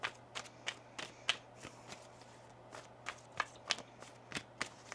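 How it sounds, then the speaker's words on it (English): Soft, quick riffling snaps of tarot cards being shuffled, a dozen or so light crisp bursts at an uneven pace in a quiet room. "One more shuffle here."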